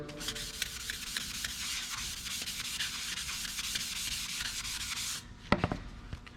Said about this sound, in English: I'm just taking this 500 grit pad and giving this a good wipe down.